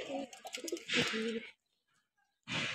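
Pigeons cooing in a home loft, soft throaty coos close by, broken by a pause of silence before another burst, with a voice speaking amid the calls.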